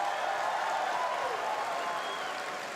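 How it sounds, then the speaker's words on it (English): Audience applause at Pokemon Worlds 2024 in Hawaii, a steady wash of clapping from a large crowd that tapers slightly at the end. "So please, one more round of applause for that amazing Hawaiian welcome."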